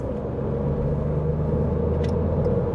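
Manual car engine droning steadily from inside the cabin while cruising as the driver shifts up a gear, a loud continuous low rumble with a brief faint click partway through.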